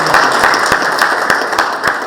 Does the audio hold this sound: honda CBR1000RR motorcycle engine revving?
no